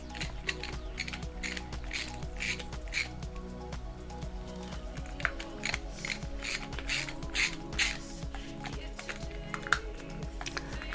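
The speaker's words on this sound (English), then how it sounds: "you take your T10 screws and you start putting them back in" T10 screws being driven back into a plastic Joby/Manfrotto Handypod Mini tripod, a quick series of close, sharp ratcheting clicks in an irregular rhythm, with soft handling noise between them.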